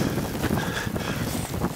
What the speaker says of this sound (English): if I face the wind, it's pretty tough